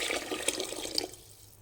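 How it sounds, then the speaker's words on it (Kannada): Water pours into a cooking pot with a brief, close, splashing stream that fades out after about a second. "ನೀರು ಹಾಕ್ಕೊಳ್ತಾ ಇದ್ದೀನಿ."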